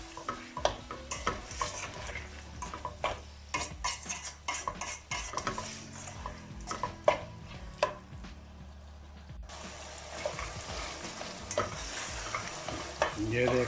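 Potato, pea and carrot vegetables with softened tomatoes cooking for a pulao in a pot, stirred with a spoon in repeated scraping strokes over a steady sizzle that grows brighter near the end.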